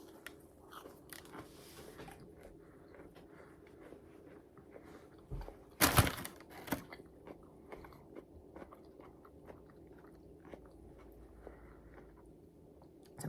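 Fried pickles crunch softly as they are chewed close to the mic in a quiet room, with small bites and mouth noises throughout and one loud, sharp crunch near the middle.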